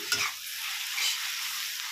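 Tomatoes stir-fry in a hot pan with a steady, close sizzle and brief scraping stirs near the start, continuous and without voices.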